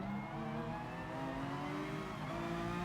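A race car engine in the racing game Gran Turismo Sport drones loudly and steadily at high revs, with layered harmonic tones shifting slightly as the car runs down a straight in a slipstream.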